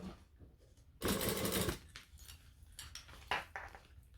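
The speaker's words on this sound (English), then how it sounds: "I'm back stitching and top stitching at the same time" Sewing machine stitching a fabric clutch, running back and forth to backstitch and topstitch; one loud, dense burst of needle chatter lasts about half a second, surrounded by quieter handling and rustling.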